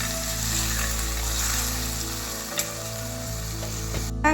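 Bitter vaal beans sautéing in a pan for kadvya valachi bhaji give a continuous close sizzle with a steady frying hiss, one faint scrape midway and a brief clatter at the very end.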